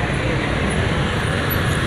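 Congested road traffic rumbles steadily nearby on an Indonesian road with buses passing, a dense continuous low roar, while someone talks over it.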